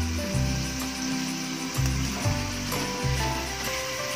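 Chicken sizzles as it is lowered into butter in a pan for butter fried chicken, a loud, continuous frying hiss with low rhythmic thumps and scraping as it cooks.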